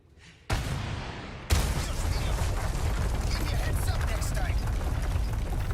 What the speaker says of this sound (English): Seriously, just shoot the obstruction with a rocket and you're good to go.